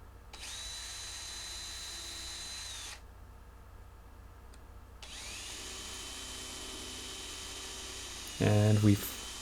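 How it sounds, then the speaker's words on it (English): An electric drill with a 1/16 wood bit bores into wood, whining at high speed in two bursts with a pause between, followed by a brief louder grinding chatter near the end. "I'll start off with a 1/16 wood drill bit, angling slightly towards center."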